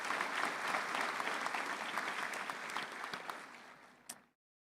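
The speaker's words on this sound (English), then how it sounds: "give them a round of applause" Audience applause at a college commencement ceremony, a large crowd clapping steadily and loudly, then fading out over a few seconds with a last stray clap.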